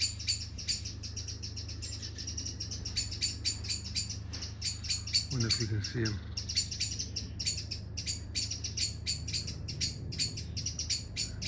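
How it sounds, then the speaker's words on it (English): Near a cherry tree, a bird gives a rapid series of sharp, repeated chirping calls that run almost without a break. A lower, brief call cuts in midway, and a voice murmurs softly once. "Look at this bird."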